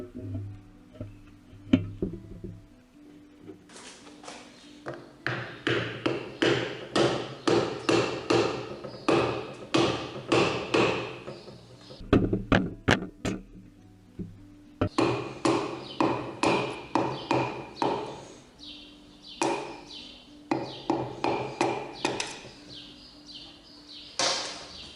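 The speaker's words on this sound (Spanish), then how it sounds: "Utilizamos el mango de madera o de plástico de un martillo para meter cada uno de los" Wooden or plastic hammer handle tapping pistons into a Renault F9Q B266 engine block during reassembly, with dense runs of quick, sharp knocks and brief pauses between bursts, close and clear.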